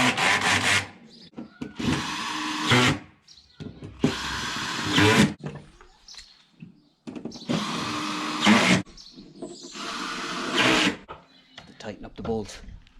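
A power drill tightens bolts during a car camper build, running in several separate whirring bursts of a second or two each, separated by pauses, with someone talking in between.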